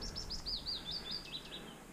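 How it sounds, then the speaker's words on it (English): Birds sing by a lake in a quick series of high, clear chirping notes, faint and somewhat distant over a soft outdoor background. "I can hear the birds everywhere, and it's beautiful"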